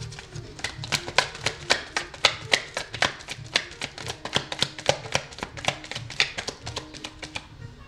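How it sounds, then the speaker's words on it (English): Tarot cards are shuffled by hand in a quiet room, a steady run of quick crisp riffling snaps repeating about three times per second, close and alone without talk. "Nah, I'll keep shuffling."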